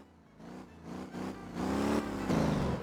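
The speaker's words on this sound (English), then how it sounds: "you can immediately hear the engine go up quite a bit higher" A car engine in Motor Town: Behind The Wheel revs higher after the car is switched into sport mode, its pitch stepping up through several gear changes and growing louder, near and steady.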